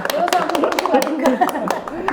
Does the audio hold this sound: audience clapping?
yes